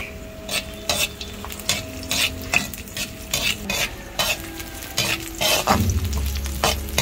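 Garlic sautéing in a pan, a continuous sizzle broken by a brisk run of rhythmic spatula scrapes and taps, loud and close, with no speech.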